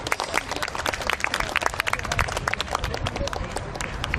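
A crowd applauds the AJD office-worker K-pop dance team at a fashion show, lively scattered clapping mixed with cheers and voices talking.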